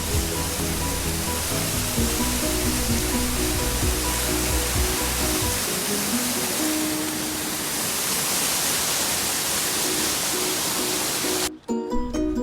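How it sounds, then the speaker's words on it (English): A dangerous waterfall beside the mountain trekking trail to Kedarnath in the rainy season roars as a loud, steady wash of rushing water, with some low mechanical drone in the first seconds before the falling water dominates and cuts off near the end. "There is one more waterfall that is kind of dangerous one."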